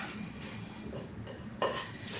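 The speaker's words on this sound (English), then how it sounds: "just go ahead and stir that up." Sliced apples being stirred with sugar in a bowl for an apple pie, heard as soft scraping and clinking of a utensil against the dish, with one sharper knock near the end.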